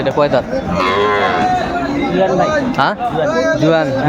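Cattle, including Sahiwal cows and calves, moo loudly and repeatedly close by at a livestock market, with people chattering throughout in a busy crowd.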